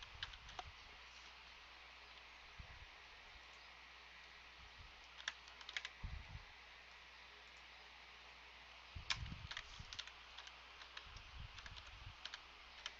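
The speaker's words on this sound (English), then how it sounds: "So just type it in." Typing on a computer keyboard while filling in a form, quiet scattered key clicks in short bursts with pauses between them, close and soft, no talking.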